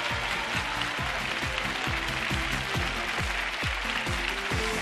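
A TV studio audience applauds at a Spanish summer game show featuring a rabbit race, steady dense clapping throughout, while music plays underneath.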